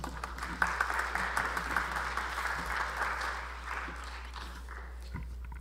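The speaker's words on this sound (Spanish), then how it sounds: "Lo recibimos con fuerte voto de aplausos." Sustained, even applause from an audience at an international university scientific seminar on quinoa, dense and steady for several seconds over a constant low electrical hum, tapering slightly near the end.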